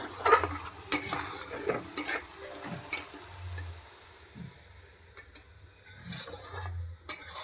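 Ghugni cooking in a big wok, with a ladle scraping and clanking against the metal in irregular strokes over a soft sizzle, close by and without talk.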